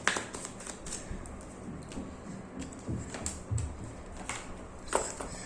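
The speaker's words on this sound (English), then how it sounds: "So let me just shuffle the cards." Tarot cards being shuffled by hand in a series of soft riffling flutters and light clicking taps. The sound is close and fairly quiet, with no speech.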